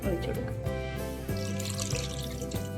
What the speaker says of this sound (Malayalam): കുറച്ച് പുളിവെള്ളം കൂടി ഇതിലേക്ക് ഒഴിക്കും